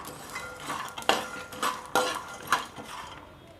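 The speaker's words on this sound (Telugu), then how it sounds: "ఇప్పుడు మనం ఇవి వేసుకుని ఒక 1 మినిట్ పాటు వేయించుకున్న తర్వాత" Sesame and poppy seeds roast with peanuts in a pan, a spoon scraping and clinking against the metal in a series of quiet, irregular stirring strokes.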